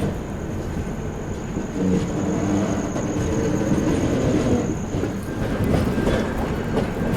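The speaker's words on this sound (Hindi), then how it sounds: "धीमे धीमे बिल्कुल कर्व लेते हुए गाड़ी एंट्री लेती है गोधरा स्टेशन पे।" A train rolls slowly into Godhra station with a steady rumble and clatter of wheels, a thin high squeal running through as it curves along the track.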